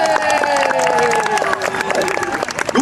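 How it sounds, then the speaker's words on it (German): A crowd at a school fairy-tale performance of Jorinde and Joringel claps, cheers and calls out loudly just before the play begins, a dense, close burst of applause mixed with shouting voices. "Applaus und ihr dürft ausrasten."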